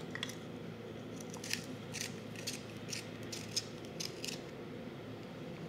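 A Bite lip pencil, shade 36, is turned in a cosmetic sharpener, giving a run of small, close, dry scraping clicks over a low steady hum, without talk.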